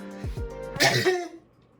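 A single sharp sneeze bursts out close and loud after a brief throat sound, then fades into quiet room tone in an indoor gaming setup.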